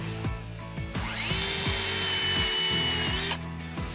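A battery-powered saw cuts through a tree branch: a steady, close motor whine rises, holds for about two seconds while the blade bites into the wood, then winds down, with a few short handling knocks before and after.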